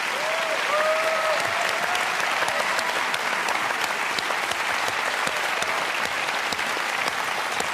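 A television studio audience applauds panellists at the close of a Q&A panel discussion, steady dense clapping sustained throughout, loud and close, with no talk over it.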